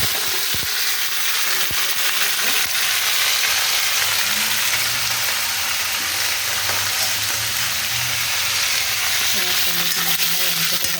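Paneer frying in a little oil in a kadai, a continuous close sizzle with faint stirring clinks and scrapes throughout, steady and unbroken.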